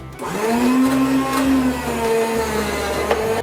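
Food processor slicing potatoes thin for au gratin, a loud steady motor whir with shifting pitch as slices feed through, heard alone.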